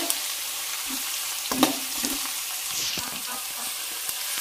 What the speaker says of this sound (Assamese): এখিনি পিয়াজ আদা নহৰুখিনি ভাজি ললো